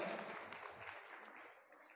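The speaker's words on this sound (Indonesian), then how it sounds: "tepuk tangan buat kakak yang sudah maju ke depan" Audience applause at an indoor motivational seminar on the quarter-life crisis: a faint, diffuse wash of many hands clapping at a steady level for about two seconds.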